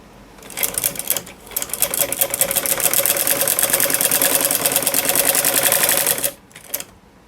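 An electric sewing machine stitches along a sleeve edge, a close rapid rattling whir that runs for several seconds, pauses briefly near the start and ends with a short final burst.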